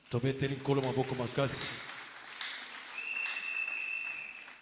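A church congregation applauds, a diffuse burst of clapping that starts after a voice finishes speaking and lasts a few seconds at moderate volume.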